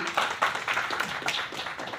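Scattered audience clapping at a Marathi film launch event, a thin patter of individual claps with uneven rhythm, fairly close and moderate in level.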